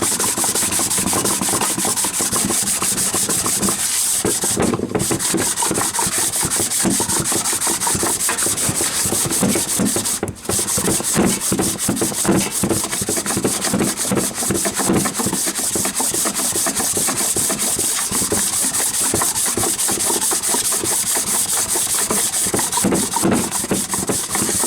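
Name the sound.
scrubbing dirt off a Rover P6 V8 cylinder head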